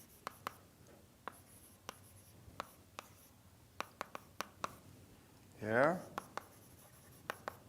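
Chalk or a marker taps and scratches on a board during a maths lecture, with sparse irregular clicks and short strokes heard close and faint, while a voice speaks briefly partway through.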